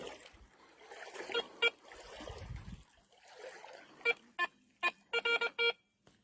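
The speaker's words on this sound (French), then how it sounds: "quand le détecteur perd le contact par rapport au sol, voilà, perd le contact, il fait un bip comme ça" A metal detector sounds a series of short, sharp electronic beeps as its coil loses contact with the ground, some isolated and others in a quick cluster, heard over faint outdoor rustling.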